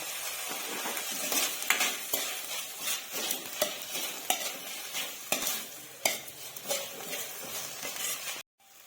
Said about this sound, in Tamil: வெங்காயம் தக்காளி வந்து இப்போ நல்லாவே வதங்கிடுச்சு